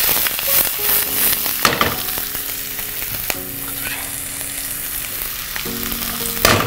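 Ginger, green chili and curry leaves fry in hot oil with a loud, continuous crackling sizzle, punctuated by sharp spitting pops and a few stirring knocks.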